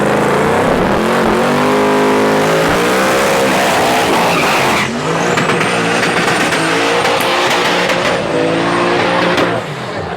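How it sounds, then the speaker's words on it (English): A Silverback Camaro race car at a raceway during race week roars loudly and continuously up close, engine revving with tire skid noise, then the pitch sweeps upward as it accelerates away. "This is one fast car right here."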